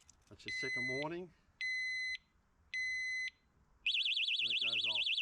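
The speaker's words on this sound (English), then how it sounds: "that's your second warning." KOVIX trailer lock alarm on a caravan hitch sounds three evenly spaced loud electronic beeps, then breaks into a continuous warbling siren; someone talks over the first beep and again as the siren starts.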